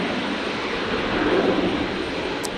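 A Virgin Boeing 737-700 jet arriving at Brisbane Airport, heard as a steady, broad engine roar that stays loud and continuous throughout.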